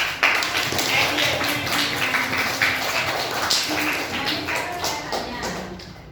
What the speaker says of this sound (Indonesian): Kasih applause tepuk tangan